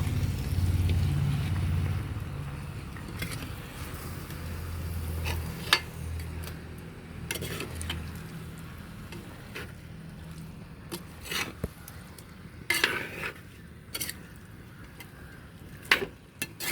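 A spoon stirring chicken curry with cloves in a pan, giving soft intermittent scraping and clinks against the metal over a low background hiss, with scattered sharper taps toward the end and no talking.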